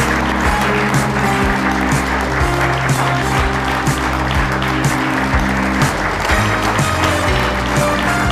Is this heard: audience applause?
yes